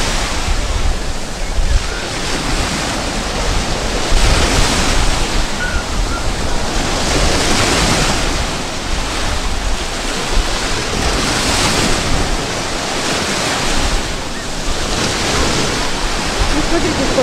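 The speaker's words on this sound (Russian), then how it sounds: "Шум прибоя." Rough, choppy surf rolls and breaks steadily onto a busy central beach on a cold, unsettled sea day, a continuous loud wash with gusts of wind buffeting the microphone.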